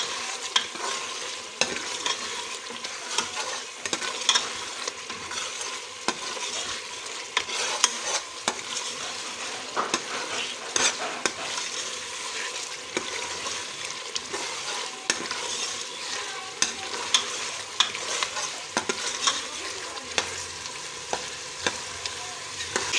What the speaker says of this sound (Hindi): गोश्त अच्छी तरह भुन रहा है